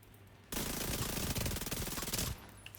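Sustained automatic burst from the SMG Striker submachine gun in a video game, a rapid, evenly spaced stream of shots lasting nearly two seconds, loud and close, then cutting off into a quiet tail.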